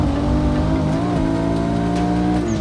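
Nissan Nismo Z-Tune engine pulling hard on the throttle around a track, a loud sustained rising howl with harmonic whine and a slight dip midway, close and uninterrupted.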